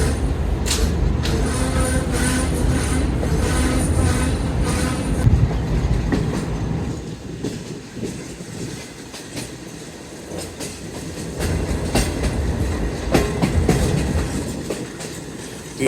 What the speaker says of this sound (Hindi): 4 वाली रेल कार को लेके जाएगी पहले